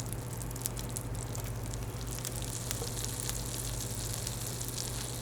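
Chicken thighs laid skin down in melted butter in a hot pan hiss with a dense, steady sizzle and crackle, close and constant throughout, with no one talking.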